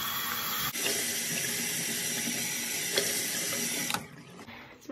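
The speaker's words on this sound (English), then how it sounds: "so first I wash my face with water." A bathroom tap runs steadily for face washing, giving a continuous close hiss of flowing water. It is briefly interrupted near the start and end, with no talking.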